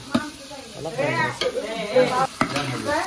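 Tomatoes go into a sizzling pan of chicken pulao cooking over a wood-fired stove and are stirred, with loud scraping strokes over a constant fry and a voice chattering throughout.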